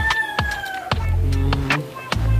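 Chickens cluck and call close by in a backyard flock, short rhythmic bursts following one another over steady background noise.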